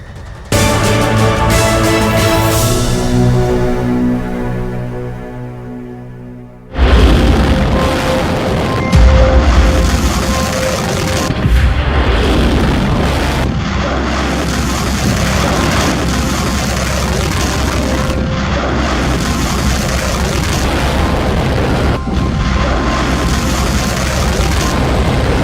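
An Iranian missile launch: a steady low rumbling roar with a sudden loud boom-like onset partway through, then a sustained powerful thrust noise continuing to the end.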